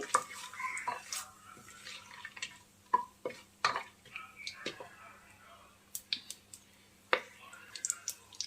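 Whole garam masala spices frying in a pan for vegetable biryani, a faint sizzle broken by scattered clinks and scraping of a spoon against the pan, quiet and close.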